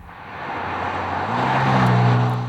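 An Audi with Quattro all-wheel drive, a 2005 model, drives close by, its engine note rising steadily and loudly with a strong low rumble and building revs toward the end.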